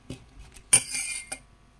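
A spoon clinks against a bowl while stirring sugar into a rose-flavoured ice cream mixture, with a few short metallic taps and scrapes, one sharp louder clink near the middle, close and otherwise quiet.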